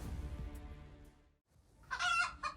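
Chickens give a low clucking call, then after a brief pause a short burst of louder squawks follows, close and alone with no talk.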